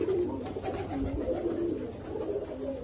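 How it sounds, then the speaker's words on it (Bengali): Domestic pigeons sitting on eggs coo softly in low, steady murmurs close by against a quiet background. "আমার এখানে আরো একটা দেশি কবুতর, দেখেন, একে ডিম নিয়ে বসে আছে"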